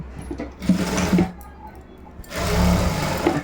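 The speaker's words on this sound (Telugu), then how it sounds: "ఇక్కడ నుంచి మనం కుట్టు అనేది వేసేసుకోవాలి" A sewing machine stitches a blouse hem in two short bursts of rapid mechanical whirring, close and clear with a pause between them.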